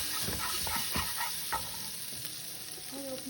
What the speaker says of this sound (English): Throw throw our minced garlic. Just gonna cook that for several seconds.